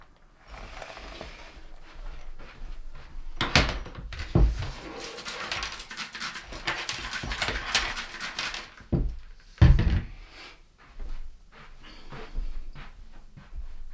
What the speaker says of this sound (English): you can hear me shuffling around in my slippers